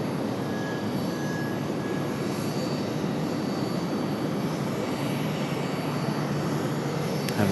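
An aircraft auxiliary power unit runs on the ramp at Raleigh-Durham International Airport, giving a steady, unbroken roaring whine of engine noise that holds at an even level throughout.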